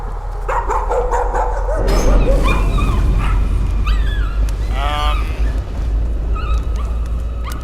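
A dog in the horror game Layers of Fear barks, yips and whimpers in a string of loud, close calls with whining pitch slides, all over a deep droning background.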